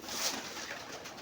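A pigeon coos once, faint and brief, against a dull background hiss.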